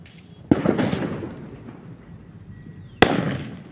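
Firecrackers exploding during a Diwali celebration, two sharp loud bangs about two and a half seconds apart, each followed by a crackling, rumbling decay outdoors.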